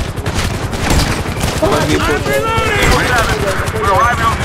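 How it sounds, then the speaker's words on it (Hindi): Gunfire in GTA V, a series of rapid, loud shots from a game weapon aimed at headshots, firing continuously through the clip with a dense, clattering rhythm and no one speaking. "आपको बिना मिस किए बस चार गोली मारनी तो है"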